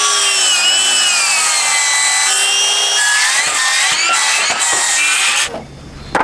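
A miter saw cuts through a wood board while a master bedroom is rebuilt, a loud continuous whining cut that holds steady for several seconds before the blade spins down and stops.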